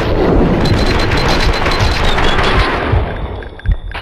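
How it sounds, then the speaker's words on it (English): Heavy sustained gunfire from a shootout in the video game Max Payne 2, a loud dense barrage of rapid shots and booms filling nearly four seconds before tapering off. "Someone must have heard the gunfire."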